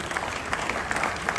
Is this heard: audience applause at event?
yes